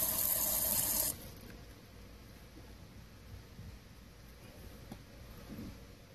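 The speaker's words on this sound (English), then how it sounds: "Just water, dear, just water." Water pours loudly into a tarantula enclosure for about a second, then cuts off abruptly and leaves a quiet background.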